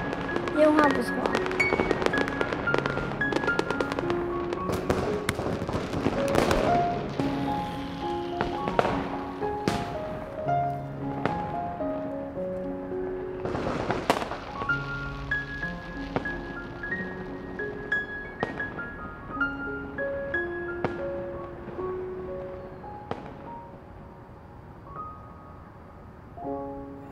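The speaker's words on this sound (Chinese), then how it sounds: "烟花不错。" Fireworks burst in a few sharp, loud booms scattered over steady music in a drama scene, with a faint voice here and there.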